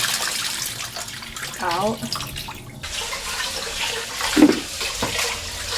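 Water pours and drains from a pot while rice is washed by hand in a kitchen, a continuous splashing rush with a brief gurgle, under a person's talking.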